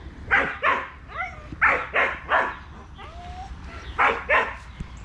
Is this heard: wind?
no